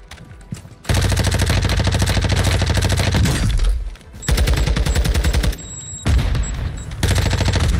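Shotgun gunfire in Call of Duty Warzone, heard as dense bursts of loud rapid shots in several long volleys separated by short gaps, with game effects layered in.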